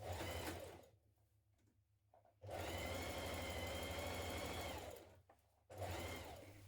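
A sewing machine stitches T-shirt seams in two long steady motor runs separated by a brief pause, a close, even buzzing whir with no voices.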